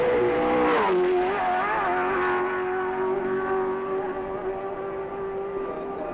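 A 1960s Formula One racing car, with Repco Brabham and Ferrari cars contesting the German Grand Prix, screams loudly past on the final straight, its engine note dropping and then holding a high sustained whine.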